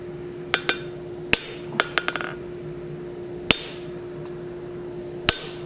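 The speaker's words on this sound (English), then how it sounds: "this is a soft face hammer. I'm just lining it up with my edge and driving that material down to draw out a little bit of a tenon" Soft face hammer striking hot metal on an anvil to draw out a tenon for a forged plant hanger, sharp isolated blows, one quick bouncing cluster of taps, then sparser single strikes over a low steady hum.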